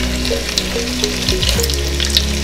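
A poultry carcass sears over high heat in a hot pan for fumet, a loud continuous hiss and sizzle with a low steady hum under it, close up and without speech.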